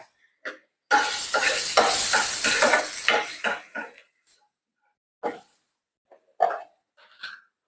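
Garlic dropped into hot oil in a pan, sizzling and crackling loudly for about three seconds, then fading, followed by a few short clinks and stirring sounds of a utensil against the pan.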